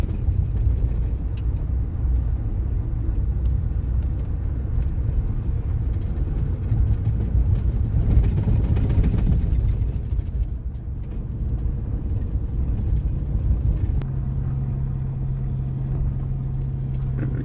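A car climbs a washboard gravel road toward Chimney Rock National Monument, a steady close rumble of tires and engine inside the cabin, with rough fluttering texture and a low hum that holds throughout.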